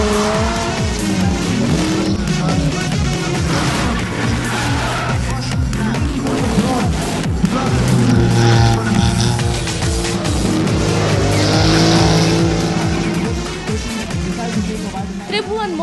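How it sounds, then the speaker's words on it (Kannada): Dirt track race cars at Moodbidri speed past, with roaring engines and squealing, skidding tires. The loud racing noise is continuous, and a voice talks over it. "ಮತ್ತೊಂದು ಕಡೆ ಬಿರುಸಾಗಿ ನುಗ್ಗಿ ಬರ್ತಿರೋ ಕಾರ್ಗಳು"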